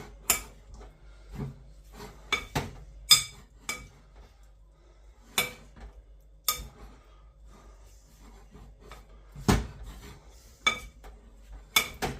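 A spoon tosses chunks of goulash meat in flour inside a dish, producing scattered clinks and scrapes against the dish with quiet gaps between them.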